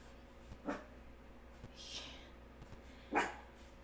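Two short, soft barks from a small dog, spaced a few seconds apart over a quiet background.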